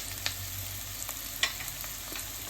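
Sliced onions being stirred and sautéed in a pan for an okra stir-fry, with a soft steady sizzle, a low hum and a few sharp spoon scrapes and taps against the pan, quiet and close.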